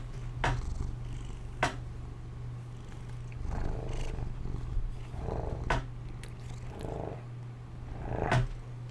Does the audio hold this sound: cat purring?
yes